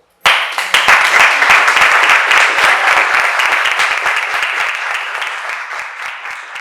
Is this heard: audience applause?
yes